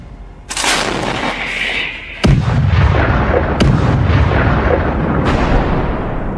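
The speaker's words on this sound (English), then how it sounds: "Ukrainian artillery opens fire with American M777" An American M777 towed howitzer firing on a Russian column, with a sharp, loud boom cutting through a heavy rumbling background, then further distant blasts and lingering roar.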